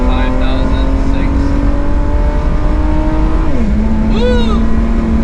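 Mercedes W124 E36 AMG cabriolet engine revving in manual mode on the Nürburgring, a steady loud drone that holds, drops in pitch at a gearshift, then carries on over constant wind and road noise.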